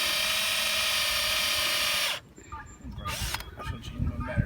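A cordless drill bores a tap hole about an inch into a never-tapped maple tree, giving a loud, steady whine for about two seconds before cutting off, followed by close handling noises and a voice.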